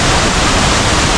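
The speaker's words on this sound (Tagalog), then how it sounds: "Ayan na yung falls." A waterfall in Malinao, Albay roars as a loud, steady broadband rush of falling water, close and unbroken for the full short moment.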